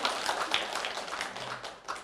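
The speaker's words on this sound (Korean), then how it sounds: "우리 박수로 한번 영광 올려드릴까요?" Church congregation applauding during an online Sunday worship service, a soft, fairly brief burst of clapping.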